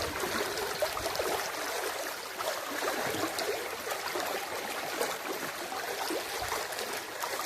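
A small creek at a gold prospecting spot flows in a continuous, moderately loud babble and trickle of water, steady with small splashy variations.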